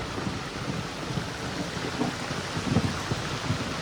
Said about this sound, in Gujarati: વીજળીના ભડાકા તડાકા થાય છે